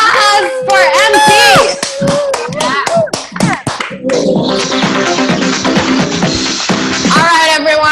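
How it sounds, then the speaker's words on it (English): A group at a morning company meeting first cheers and shouts loudly, then breaks into sustained, dense applause that fills the room to the end. "Round of applause for MP."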